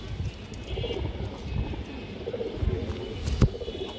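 Young racing and high-flyer pigeons coo softly amid faint rustling and background noise, low murmuring calls rising and falling over a few seconds, with no talking.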